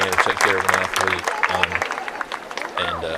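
Crowd applause at a high school football game, clapping spread across the stands beneath a nearby announcer's voice that talks throughout.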